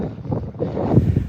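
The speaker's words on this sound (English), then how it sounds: "I think we've got average wind speeds of 15 and gusts of 30 today." Strong gusty wind roars outdoors on a dog walk in Edinburgh, a loud, rough, constant rumble buffeting the microphone with no break throughout.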